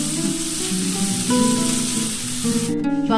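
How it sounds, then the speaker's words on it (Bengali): Potatoes and bitter gourd fry in a pan for a Bengali chachchari, a close, steady sizzle and crackle with some tonal ringing and clinks layered over it. "আমি আলুগুলো দিয়ে ভালো করে ভেজে নেব"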